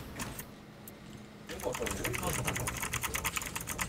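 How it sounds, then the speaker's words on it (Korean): Rapid, loud clatter of a computer keyboard being typed on during a PUBG gaming session, starting after a quieter stretch, with voices talking around it. "키보드 소리 너무 심한데?"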